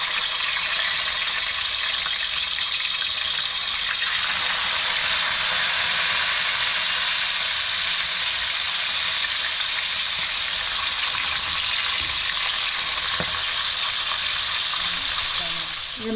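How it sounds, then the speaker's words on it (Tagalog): Steady, dense sizzling of fish frying in hot oil, a continuous crackling hiss with no talking. "Mainit na. Mag-prito tayo."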